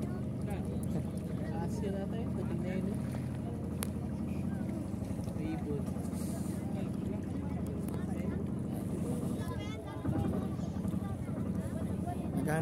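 A boat engine near Snake Island in Palawan drones continuously on the water, a steady low rumble mixed with wind and splashing, with faint voices underneath.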